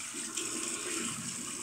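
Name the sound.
water being added to a shaving brush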